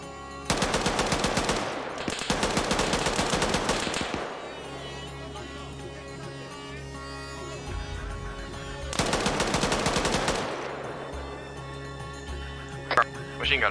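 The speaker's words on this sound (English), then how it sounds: "Machine gunner down the road." Rapid bursts of automatic machine-gun fire in a military shooter game, two loud sustained volleys separated by a stretch of quieter ambience, with a voice talking between them.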